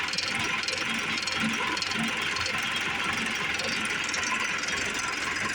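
A Ditch Witch 6510 directional drill engine turns over on the key and runs with a steady, loud mechanical clatter and rumble, continuous throughout with no pause.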